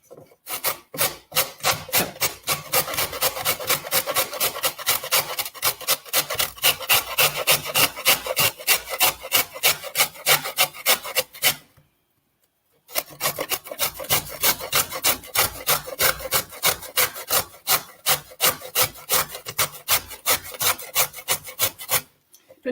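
Food being grated by hand on a grater for Glamorgan sausages, a steady run of rapid rasping back-and-forth strokes, close and loud, with a brief pause midway before the scraping resumes.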